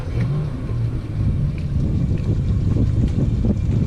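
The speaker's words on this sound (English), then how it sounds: "Now I'll turn on the port engine." Outboard engines on a 32-foot Sea Vee boat, heard close and loud as a steady rumbling drone with a rise in level partway through as another engine comes on, under wind noise and with no talk.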